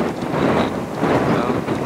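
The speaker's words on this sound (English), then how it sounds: "It's a little windy." Wind buffets the microphone trackside near Amtrak and Caltrain lines in the South Bay Area, a continuous low rumble and rushing noise, loud and close, no voices.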